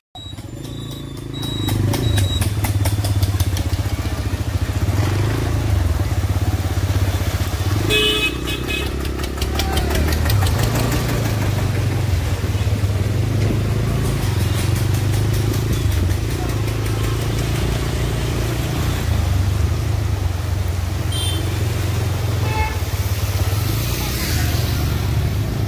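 A motorcycle engine starts and settles into steady running close to the microphone, loud and continuous, with a short dip in revs partway through and a brief voice near the start.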